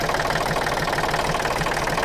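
A Kubota L3608SP tractor engine idles nearby with a steady, even chugging rhythm and a constant mechanical drone.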